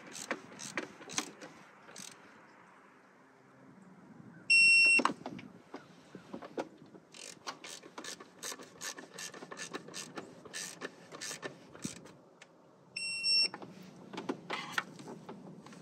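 A ratchet clicks in quick bursts while bolts are torqued to 8.3 Newton meters on a Subaru, with short pauses between bursts and two brief high electronic beeps, likely from a torque wrench.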